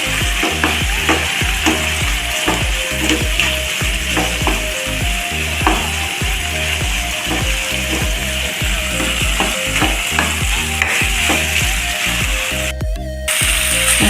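Beef fry with ground masala paste being stirred in a pan, a loud steady sizzle broken by rhythmic spatula scrapes every second or so, very close, no voices.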